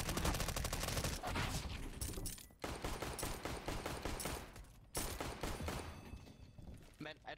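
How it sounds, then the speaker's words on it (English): Rapid, dense gunfire fills a round of Counter-Strike: Global Offensive Danger Zone, with loud bursts and fusillades running nearly continuously and two short gaps, while players talk over the shooting. "I think he was shooting on you."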